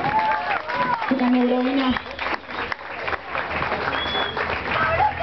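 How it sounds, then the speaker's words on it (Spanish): Concert crowd applause and cheering at a rock show in a Buenos Aires club, steady clapping running beneath an announcer's amplified voice. "Un aplauso para el Pablo 93"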